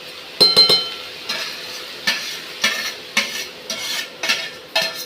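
Roasted vermicelli being stirred into chow mein in a pan: a regular series of scraping spatula strokes and light clinks over a soft sizzle, close and alone.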